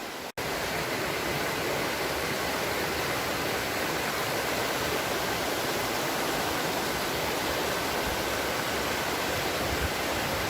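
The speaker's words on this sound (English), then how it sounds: "This is the water that's coming from the waterfall, which we will be going soon." Rushing water from a waterfall in an Austrian valley, a continuous loud broadband roar filling the whole stretch without pause, heard close and alone after a brief silent start.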